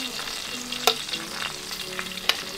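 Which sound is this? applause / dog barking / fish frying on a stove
fish frying on a stove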